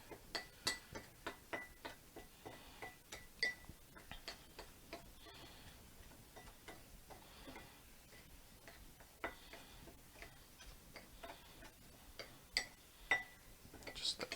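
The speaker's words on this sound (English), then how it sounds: "next we're just going to mix this all up together" Chili burrito filling being mixed in a bowl, with a utensil making faint, steady clinks and taps against the dish in an irregular rhythm throughout, quiet and close, with a little talk between the clicks.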